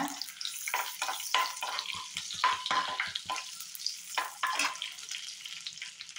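Whole spices, a bay leaf, cinnamon pieces, cloves and cardamom, fry in hot oil with a steady crackling sizzle, broken by scraping stirs and a few sharper pops, close and without voices.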